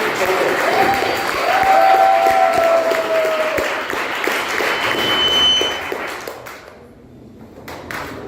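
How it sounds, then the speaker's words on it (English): Audience applause at a Toastmasters club contest meeting, a dense burst of many hands clapping that swells, holds for several seconds, then thins out and fades to near quiet with a few scattered claps at the end. "with a huge round of applause, let us officially begin"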